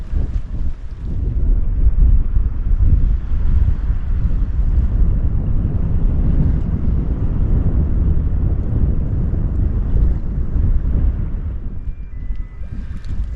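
Strong sea wind buffets a camera microphone on a shoreline fishing spot behind a power station, a loud, continuous low rumble with no voices.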